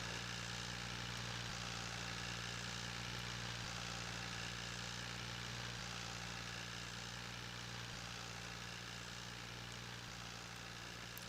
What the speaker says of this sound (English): This rake's looking a little bit big for this tractor, but I'm sure it'll pull it just fine.